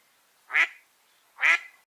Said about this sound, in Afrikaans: 'n Eend in Engels is 'n duck.